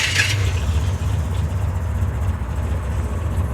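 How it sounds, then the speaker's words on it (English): An old custom car, a cheap kustom, idles fast with a steady, throaty rumble close by, opening with a brief bright rattle before settling into an even, slightly uneven-pulsing drone. "So it's idling fast"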